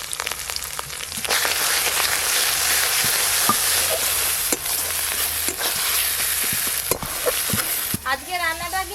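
Ginger, garlic, chopped onion and ground spice paste sizzle steadily in a pan, with repeated scraping strokes and clinks from a stirring spoon throughout, close and fairly loud.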